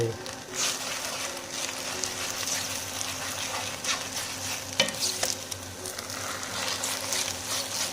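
Pad see ew noodles with oyster mushrooms being stir-fried for a vegan dish, a steady close sizzle with scraping and tossing strokes of the spatula, one sharper clatter near the middle.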